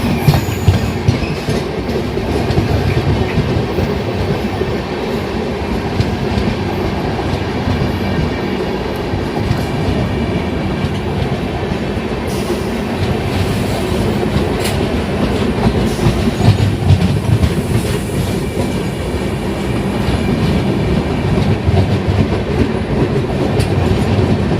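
The Sabarmati Express, running from Darbhanga to Ahmedabad, rolls steadily along the rails with a loud, continuous rumble, rhythmic wheel clatter and occasional faint squeals, heard close and without any talk.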